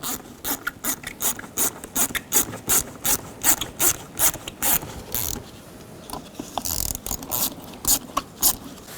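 A socket wrench ratchets in quick rhythmic clicks while worm clamps on the airbox of a 2010-16 Buick LaCrosse are loosened, close and steady with a brief scraping pause midway.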